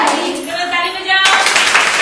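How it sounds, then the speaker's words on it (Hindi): Children clap their hands together in a classroom training session, a burst of many overlapping claps breaking out after a short stretch of a voice, loud and continuous to the end. "चलो ताली बजाओ।"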